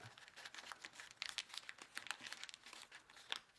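Paper is folded by hand into an origami computer mouse, with soft, close crinkles and quick creasing rustles in an uneven rhythm, fairly quiet throughout.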